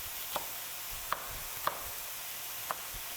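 Hash browns for a breakfast casserole are chopped with a few soft, separate taps against a surface, spaced irregularly over a quiet, sizzling background.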